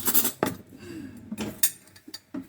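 A microwaved mug cake is turned out of a bowl onto a plate, giving a few light ceramic knocks and clinks spaced irregularly, close and fairly quiet.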